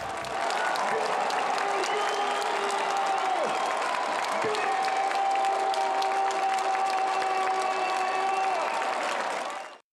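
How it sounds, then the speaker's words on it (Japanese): A large stadium crowd at a Roasso Kumamoto home football match roars and claps continuously after a goal, a dense wall of cheering and applause from many people that fades out at the end. "スタジアムに響く大歓声"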